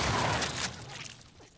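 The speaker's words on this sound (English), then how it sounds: "You can hear the explosions going off." Trap explosions going off in The Last of Us Part II, a loud burst of blasts and crackling debris at the start that fades over a second and a half, with no talk.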